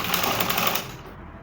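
Domestic sewing machine stitching along a thread line on a gown yoke, a steady dense whirr for most of the moment that drops to a softer run near the end.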